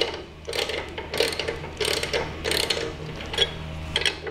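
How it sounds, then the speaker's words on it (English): A ratchet loosens the swing axle spring plate bolts on a VW Beetle or Manx dune buggy: close, loud bursts of rapid ratcheting clicks in about six strokes with brief pauses between. "Loosen up the bottom a little bit more."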